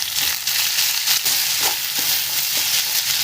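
Onion, tomato, green chili and ginger sizzle steadily in a hot pan for a veg kurma, a dense continuous frying hiss with small crackles and occasional stirring scrapes, close and fairly loud, no voices.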